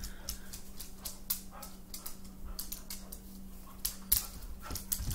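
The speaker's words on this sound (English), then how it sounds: "there's a dog jumping on my bed" A dog moves about on a bed nearby, giving a few soft thumps and rustles of bedding, with faint whimpering or yipping noises in an otherwise quiet indoor room under a steady low hum.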